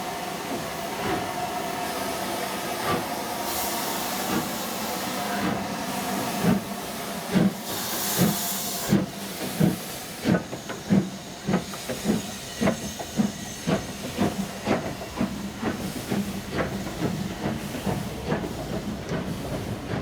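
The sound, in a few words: A-Class steam locomotive number 52322 hissing steam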